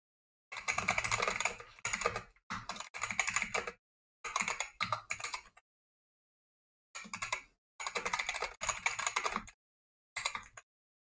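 Close computer keyboard typing in bursts of rapid clicking separated by short pauses, fairly quiet and alone without speech.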